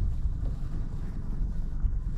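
Outboard motor on a small fishing boat off Frontignan drones steadily at low pitch, a constant rumble close by with wind buffeting the microphone and no voices.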